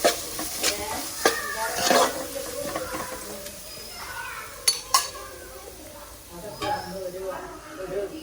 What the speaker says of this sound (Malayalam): നമ്മൾ ചതച്ച് വെച്ചിരിക്കുന്ന തേങ്ങയുടെ മിക്സ് അതിലേക്ക് ഇട്ട് കൊടുക്കുക നല്ലോണം ഒന്ന് ഇളക്കി വെച്ചെടുക്കും